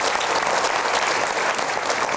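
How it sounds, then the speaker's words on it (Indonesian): A studio audience claps in a dense, steady burst of applause that lasts a couple of seconds. "Keren, kita berikan aplaus dulu dong."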